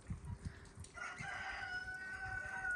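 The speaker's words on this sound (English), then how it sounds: "Roosters are singing." A rooster crows loudly and close by in a Siberian village during snowmelt, its long drawn-out call rising over a backdrop of other fowl clucking and faint outdoor noise.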